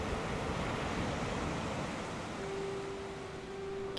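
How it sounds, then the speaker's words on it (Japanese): Big ocean waves crashing against a rocky reef below, a continuous dense roar of surf and spray with wind, steady and loud throughout, as an effect in a musical audio drama. "眼下の岩礁には大波が叩きつけられ、"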